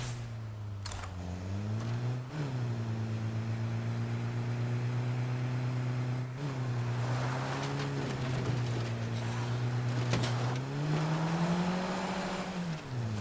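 A car in State of Decay 2 drives down a road with a steady, droning engine note that rises and falls in pitch as it shifts and accelerates, with a few thumps and bumps along the way.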